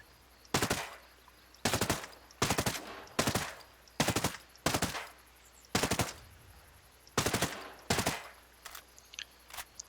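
An assault rifle in Ghost Recon Breakpoint fires about ten sharp, loud bursts of full-auto gunfire in quick succession, each burst short and separated by brief pauses.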